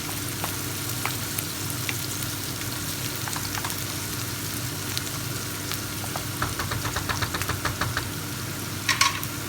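Steady sizzling of meat and spices frying in a pan for meat sauté, with occasional scraping stirs and clicks near the end; no talking.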